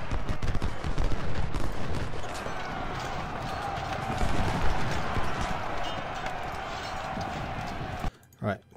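Civil War battle gunfire from the strategy game Ultimate General: Civil War forms a dense, continuous rattle of musket volleys, with a voice speaking over parts of it and a couple of sharper bursts near the end.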